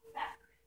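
A single short bark from a small chihuahua, fairly close and fairly loud, lasting a fraction of a second and then fading into a quiet background.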